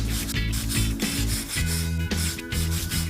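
Joint surfaces are rubbed clean before a polysulphide expansion-joint sealant goes on, giving a loud, close, rhythmic scraping and sanding that repeats in quick strokes with brief pauses.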